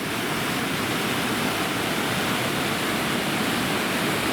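East Creek, a mountain creek in a canyon near Bubbs Creek, rushes loudly and steadily, a dense, unbroken roar of flowing water close by with no voices.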